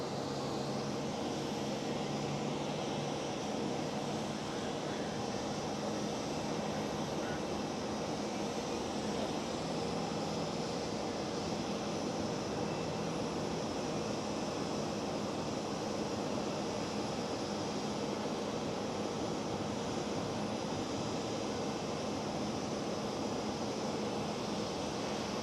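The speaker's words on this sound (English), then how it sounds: "Right over here, KLM A321neo pushback." A KLM Airbus A321neo is pushed back at Amsterdam Schiphol airport, producing a constant, distant jet whine and rumble that holds steady for the whole stretch without any break.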